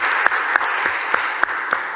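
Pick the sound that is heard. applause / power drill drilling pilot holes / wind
applause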